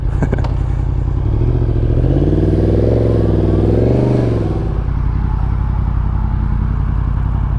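A 2023 Yamaha MT-10 motorcycle pulls away up close, engine revving up through a rising and falling whine for a couple of seconds before fading into a steady idle-like rumble, heard alone without talking.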